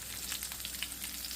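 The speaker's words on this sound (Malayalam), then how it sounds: "അത് നമ്മൾ ഒരു സൈഡ് 7 മിനിറ്റ് ലോ ഫ്ലെയിമിൽ ഫ്രൈ ചെയ്യണം" Avoli (pomfret) fish frying in oil over a low flame gives a steady, soft crackling sizzle with scattered small pops, close by and continuous with no voices.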